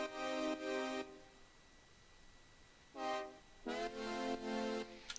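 Bright, brassy synth chords with pitch bends at their starts, held in several separate blasts with gaps between, fairly quiet over a faint noisy background and heard alone.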